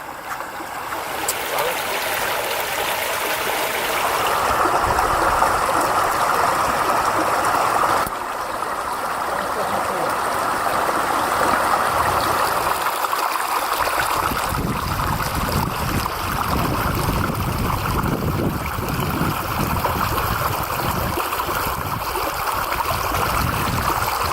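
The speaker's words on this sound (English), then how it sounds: "our first technical river crossing, only 100 metres from camp. Yeah, she's wet, and we've got to get across it." Flowing stream water at a wet river crossing in Deua National Park, Australia, a steady continuous rushing and gurgling that stays fairly loud and close for the whole stretch with no talk over it.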